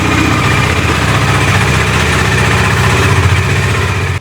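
A Bajaj Dominar motorcycle with an ABS unit problem idles steadily, a loud, close, continuous engine throb with a regular low pulsing beat and no talking.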